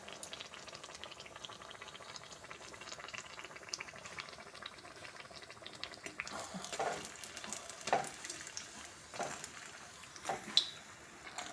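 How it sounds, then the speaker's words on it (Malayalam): Asafoetida sizzling in hot coconut oil while being stirred until crisp, a steady soft frying hiss with louder bursts of crackle and scraping stirs toward the end, close and moderately quiet with no voices. "ഈ കായം നല്ല പോലെ തന്നെ ക്രിസ്പി ആയി കിട്ടില്ലേ, അതുപോലെ ആവണ വരെ നമുക്ക് ഇത് ഈ വെളിച്ചെണ്ണയിൽ ഇട്ടിട്ട് നന്നായിട്ട് മുരിച്ചെടുക്കണം"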